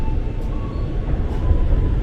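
KRL commuter train pulling into Buaran station, a steady low rumble and rolling rail noise filling the platform, fairly loud and continuous.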